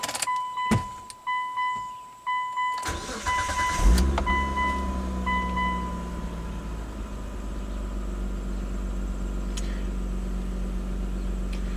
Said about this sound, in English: So let's plug it back in. Start up the car.